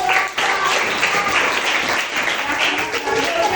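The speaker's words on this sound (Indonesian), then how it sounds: "tepuk tangan yuk untuk" Steady applause from a crowd of clapping hands for children's group presentations in a classroom, continuous and fairly loud throughout, with some voices mixed into the noise.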